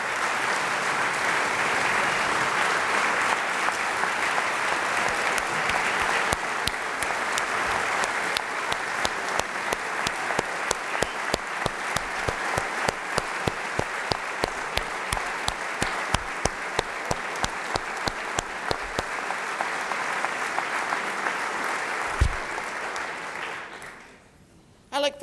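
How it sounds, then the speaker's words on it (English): Applause at the Oklahoma State of the State address, a large audience clapping steadily for about twenty seconds before the sound thins into scattered claps and fades to near silence. "Let's give them a round of applause."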